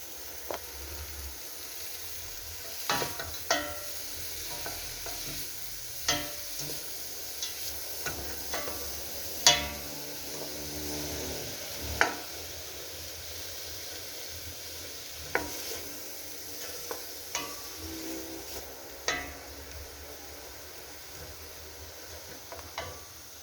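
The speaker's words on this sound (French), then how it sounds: "Alors là, je suis en train de suer les poireaux." Chopped leeks sweat in a pot over medium heat, a quiet steady sizzle broken by scattered sharp clicks and scrapes of stirring utensils against the pot.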